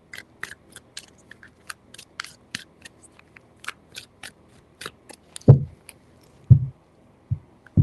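Quick crisp tarot card-riffling clicks repeat in short bursts, followed by a few soft thumps as the deck is tapped down, close and quiet.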